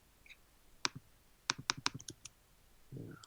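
A computer mouse double-clicks, sharp crisp clicks in close pairs at close range, with a few scattered keyboard-like taps around them and a low rumble at the end, no talking.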